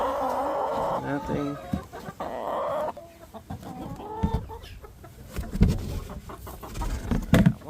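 Backyard chickens, Americana and Leghorn hens, cluck and squawk close by in the coop during egg collection, with bursts of busy clucking and a person talking now and then.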